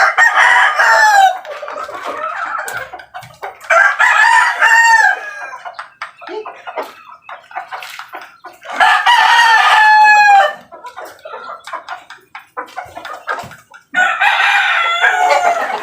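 Stag game fowl roosters crow loudly and close by, four long cock-a-doodle-doo calls spaced a few seconds apart, with clucking and rustling between them.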